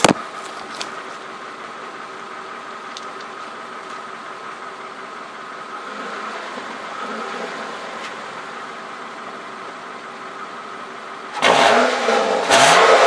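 A 2007 Lexus ES 350 idles steadily with a low exhaust hum, then its engine revs up sharply near the end in a couple of loud, rising bursts. No voices are heard.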